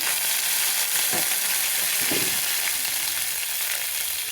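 Cumin seeds and curry leaves sizzling in hot oil for a stuffed brinjal curry: a loud, continuous crackling hiss close up, with a couple of brief stirring scrapes, no talking.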